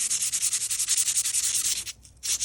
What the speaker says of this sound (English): I like to sand the back as well